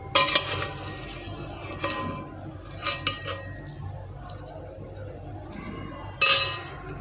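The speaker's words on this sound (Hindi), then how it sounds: "मैं एक बार मिक्स कर लेती हूँ" A spoon stirs chicken pulao in a metal pot, making close clinks and scrapes in short uneven bursts, with one loud clatter near the end.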